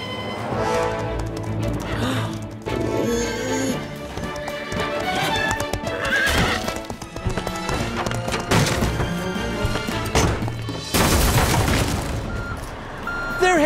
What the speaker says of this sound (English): Bob, how am I meant to keep up with racehorses?